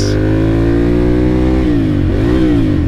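Ducati Monster 795 motorcycle accelerating on a Sunday-morning ride near Kaliurang, Jogja, the engine loud and close, pitch rising steadily, dipping briefly at a gear change and climbing again, with no talk.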